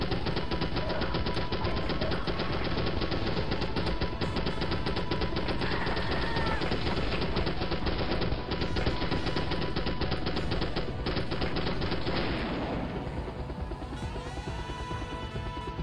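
Relentless machine gun fire from the 1998 game M.I.A. Missing in Action, a loud, continuous rattle of rapid shots that runs nearly unbroken for the whole stretch and eases off slightly near the end.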